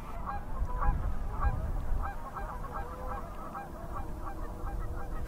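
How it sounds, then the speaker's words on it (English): A flock of geese honks repeatedly on a rainy December day over snowless benchlands, the calls moderately distant and fairly faint above a steady rumbling background. "And geese, of course."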